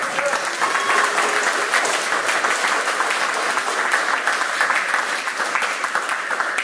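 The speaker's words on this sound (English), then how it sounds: "You get some applause for that?" Audience applause at a martial arts demonstration and instructor training, a continuous wash of clapping from a crowd lasting several seconds at an even level, with faint voices mixed in.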